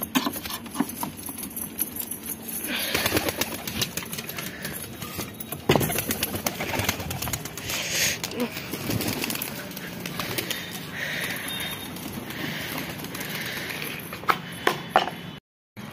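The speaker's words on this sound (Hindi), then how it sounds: "यहाँ कबूतर देख सकते हैं कितने बेताब है बाहर निकलने के लिए" Pigeons coo softly over a steady rustle, with scattered bursts of wing flapping and a few sharp knocks near the end.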